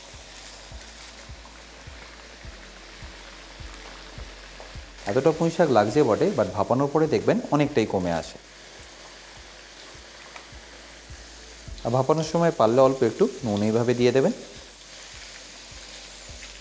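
Potatoes fry in a pan for a fish-head chhyachra dish, making a low, constant sizzle with small regular crackles close by, while a person talks in two stretches over it.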